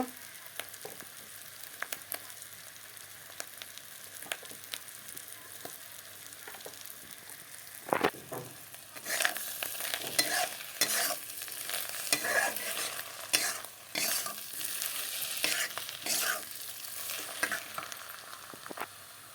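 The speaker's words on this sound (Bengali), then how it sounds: "এখন একটু নুন দিয়ে দিই তারপর ভালো করে ভেজে নেব" Salted fish roe frying in a pan, a quiet steady sizzle that swells louder about halfway through, with repeated scraping strokes of a spatula stirring near the mic and no talk.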